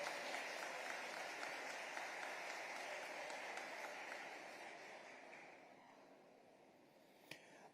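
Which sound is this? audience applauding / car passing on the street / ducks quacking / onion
audience applauding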